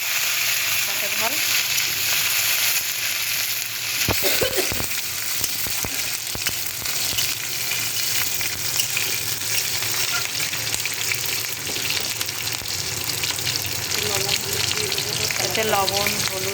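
Nigella seeds and chopped green chili fry in oil, giving a dense, continuous sizzle up close, with a sharper burst of crackling partway through and occasional stirring clatter.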